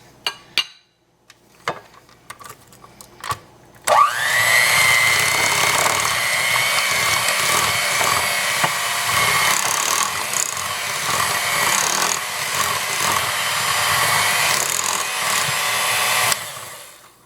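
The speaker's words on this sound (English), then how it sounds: "And then you want to mix it on low, which, I mean, even low, my hand mixer is pretty strong." A strong hand mixer running on low, beating cheesecake batter for calamansi cheesecake bars, after a few light kitchen clicks; the steady near whirring motor continues for about twelve seconds and then cuts off.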